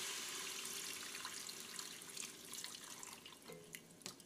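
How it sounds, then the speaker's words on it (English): Canned beef consomme pours steadily from the can into a soup pot for French onion soup, a continuous close liquid splash and trickle with a few drips near the end. "So I'm gonna add in beef consomme."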